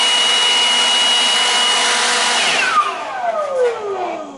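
Milwaukee 18V cordless leaf blower on its high-speed setting, a loud steady whooshing roar with a high whine that holds for most of the clip, then winds down in pitch as it spins off near the end.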